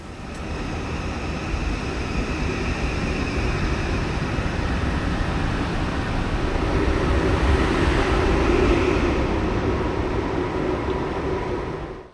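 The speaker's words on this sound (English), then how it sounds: "the train will now depart for the sidings just behind the station" A Norwegian airport express train rumbles steadily as it pulls away from the station, a loud continuous low roar and hum that swells slightly midway, then cuts off.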